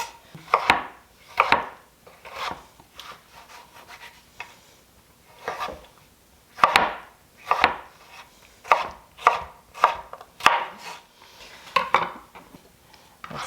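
A knife cutting tomatoes in half on a cutting board, with about a dozen crisp, close cuts in an uneven rhythm and no talking.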